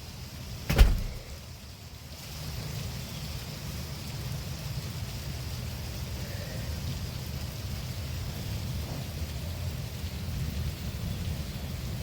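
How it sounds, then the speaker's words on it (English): Rain falling outdoors on a sunny day near a porch, a steady soft hiss of drops after a brief knock at the start, moderate and continuous with no talk. "it's raining,"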